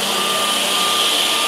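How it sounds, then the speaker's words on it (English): Edge banding woodworking workstation with its end cutting unit running, a loud, steady mechanical whir and hiss with a constant high whine, close by and unbroken, no voices. "Here is the end cutting"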